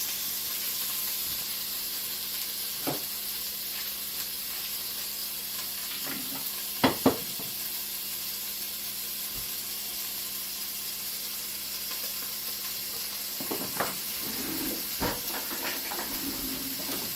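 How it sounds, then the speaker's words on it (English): Vegetarian chili ingredients sizzle in a hot pan with a steady, loud frying hiss throughout, broken by a few clacks and scrapes of stirring, with no voice. "So stick in the pan, hot."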